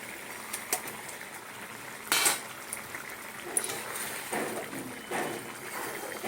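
Milk bubbles at a gentle simmer in a pot of egg korma, a quiet steady hiss broken by occasional clinks of a utensil against the pan.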